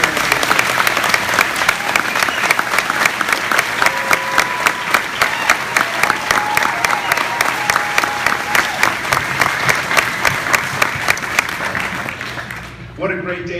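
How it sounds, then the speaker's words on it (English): An audience at the 2015 North Canaan Elementary School graduation ceremony gives the graduates a loud, sustained round of applause with dense, continuous clapping and a few voices mixed in, cutting off abruptly near the end. "Let's begin by giving a big round of applause to our graduates."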